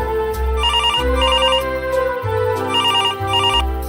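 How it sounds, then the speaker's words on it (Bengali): A telephone rings in a house with a repeated electronic trilling ringtone in short bursts, heard over steady background music. "একদিন সকাল সকাল মেয়েটির বাড়িতে বেজে উঠল টেলিফোন।"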